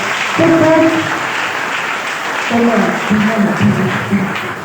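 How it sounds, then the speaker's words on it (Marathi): Audience applause at a Vidarbha speech competition, a steady crowd of clapping that swells again midway, heard with a voice over a loudspeaker running through it. "त्यांनी जोरात टाळ्या अजून एकदा वाजवा"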